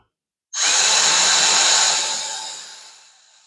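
A power drill with a 6mm bit whines loudly as it bites in suddenly, drilling out hinge holes on a VW California pull-out kitchen, then spins down and fades over a couple of seconds.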